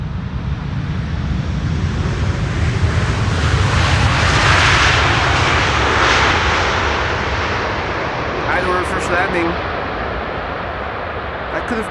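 A large airliner on final approach to Schiphol's Polderbaan runway 18R, its engines building into a loud, broad roar that swells to a peak mid-pass and then slowly fades, heard alone without talk.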